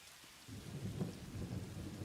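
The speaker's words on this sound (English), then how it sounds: "Oh, we now have thunder and lightning" Rain and rolling thunder in a Satisfactory game storm, a steady wash of rain with a low rumble swelling in after a quiet start and holding on.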